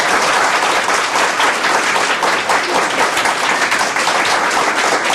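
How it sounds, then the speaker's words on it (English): Loud, dense applause fills the room from a game show audience, a continuous wash of many hands clapping at once without pause. "Give yourself a round of applause."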